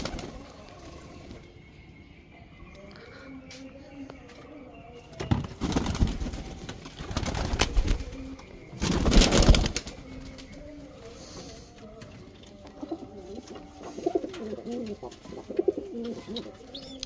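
Domestic pigeons coo softly and repeatedly nearby in a loft, with two bursts of loud wing flapping partway through and faint rustling around them.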